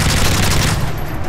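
Dense burst of gunfire from the video game Call of Duty MW3, loud and close, a continuous rapid volley filling the whole moment before tapering slightly at the end.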